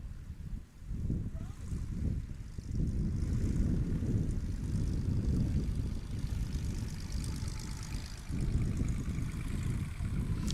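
Light touring aircraft run their engines up toward a race start line, a steady broad propeller-engine drone that holds loud and continuous across the whole stretch, with a brief dip near the beginning.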